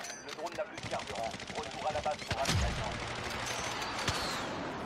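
Rapid automatic gunfire from the video game Warzone crackles in dense bursts, with a heavier boom midway and quieter shots trailing off, mixed with game noise.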